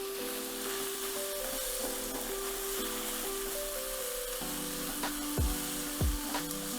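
Spring onions sizzle steadily in a hot pan during a Peruvian lomo saltado stir-fry, a continuous close crackle with a few sharper scraping stirs near the end and no talking.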